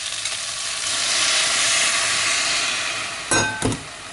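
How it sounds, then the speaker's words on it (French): Broth poured into a pan of sizzling coquillette pasta with chorizo gives a loud, steady hiss that swells and holds, then two sharp stirring scrapes and clatters near the end. "Et on va rajouter du bouillon."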